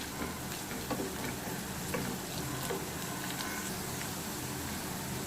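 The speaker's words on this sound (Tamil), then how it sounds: "உப்பு ஆட் பண்ணி இதை நல்லா கிளறி விட்டுக்கலாம்." Carrots stirred with salt in a frying pan give a steady, close sizzle with faint scraping ticks from the stirring, constant and alone with no talk.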